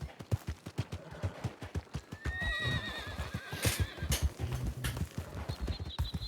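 A horse in the Western video game Red Dead Redemption gives a loud, wavering whinny amid rapid clip-clop hoofbeats, with gunfire bursts crackling in the background and a second, higher neigh near the end.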